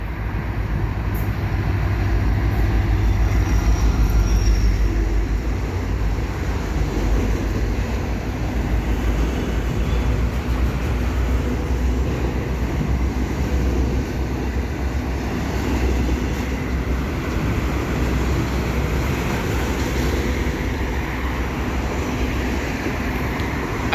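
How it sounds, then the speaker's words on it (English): A westbound freight rack train on the Dundas Sub near London, Ontario rolls past steadily for the whole stretch, a loud continuous low rumble of wheels and cars with no pause or talk. "We got westbound rack train right here with 8341 ASD"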